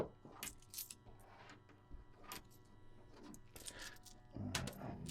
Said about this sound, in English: I'm dropping all these remaining 20 pencils on the floor.